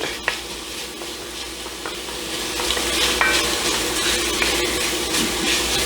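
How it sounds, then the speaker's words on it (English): Chili ingredients stirred in a pot, a steady close sizzle with scraping strokes that grows slightly louder partway through, and no voices. "And then a good stir,"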